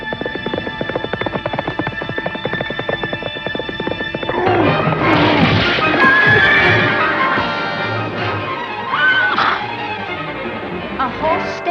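A horse in a cartoon adaptation of Black Beauty gives a loud, close whinny after a steady rhythmic run of clip-clopping hooves, all layered under a dense musical score and other scene sounds.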